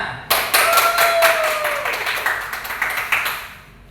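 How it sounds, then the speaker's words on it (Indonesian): A classroom of children claps together for a pupil after morning prayers, a dense burst of hand claps starting abruptly, close and lively, with a whistling tone riding over it before the clapping thins and fades. "Tepuk tangan untuk Aryanya"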